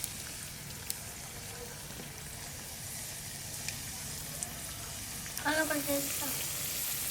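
Potato bajji fry in hot oil over a village wood-fired stove, giving a faint, steady crackling sizzle with a few small pops and a brief louder bubbling near the end.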